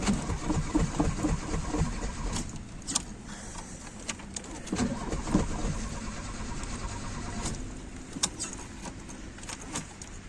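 A Şahin car with a fault that makes its lights cut out when the ignition is pressed gives off a rapid, rhythmic mechanical chatter from its starter, mixed with jingling keys and intermittent clicks close by.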